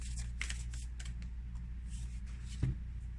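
Oracle cards are shuffled and drawn by hand, soft papery flicks and riffles scattered over a quiet room tone, ending with a slightly louder tap as a card is set down.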